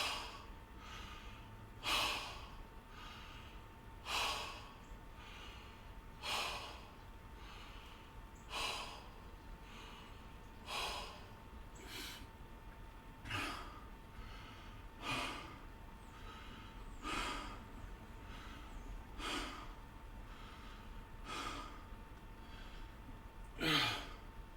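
Heavy breathing during a weightlifting workout with 8-pound weights, sharp rhythmic breaths and gasps repeating about every two seconds, close and fairly loud with no talking.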